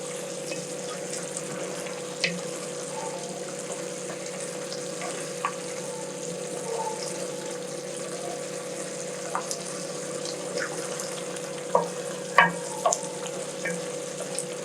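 Liver sizzling in a pan, a soft steady fry with scattered faint pops and crackles, heard close and alone.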